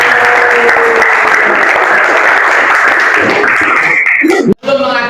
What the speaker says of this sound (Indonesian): jadi tepuk tangan untuk kita semua